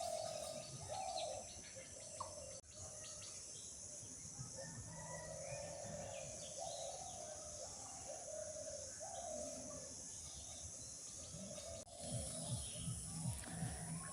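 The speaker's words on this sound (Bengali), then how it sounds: "চারপাশে ঘুঘু ডাকতেছে।" Doves coo in repeated soft phrases across a morning village, with other birds chirping and a rooster faintly in the background, all at a moderate distance over steady outdoor ambience.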